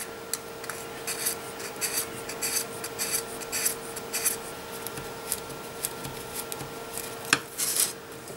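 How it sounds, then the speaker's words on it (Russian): Fine-grit sandpaper rubbed over faux brick inserts, a quiet run of short rasping strokes repeated at an uneven pace, close up, with no talking. "Теперь прохожусь по псевдокирпичикам мелкой наждачной бумагой,"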